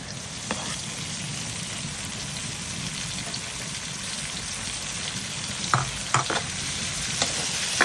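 Tomatoes sauté with onions in a hot pan for mung bean stew, a continuous loud sizzle with occasional clinks and scrapes of a utensil stirring.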